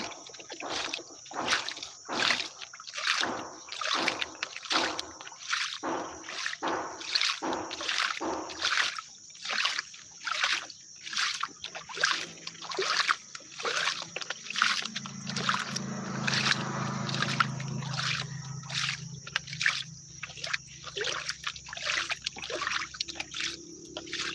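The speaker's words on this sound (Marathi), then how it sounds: "झाडांना पाणी देण्याचं काम चालू आहे" Water splashes and trickles steadily while plants are watered outdoors. The flow comes in repeated bursts that pulse in a rough rhythm, close and fairly loud, and shifts into a fuller gushing for a stretch partway through.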